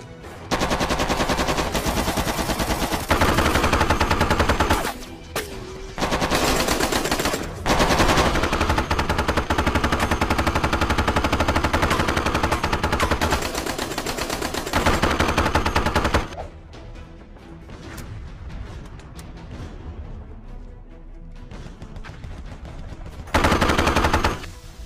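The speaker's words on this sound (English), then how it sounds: "Riggs, give us some cover fire." Loud, sustained machine gun fire from an action sci-fi movie, long continuous bursts with brief gaps, then quieter rattling toward the end before a final burst.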